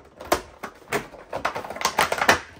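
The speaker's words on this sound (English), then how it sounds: "let me see if I can take it out with my scissors." Scissors snip through plastic toy packaging to free a small red plastic car, giving a series of sharp, close clicks and rustling crinkles at irregular intervals, with no talking.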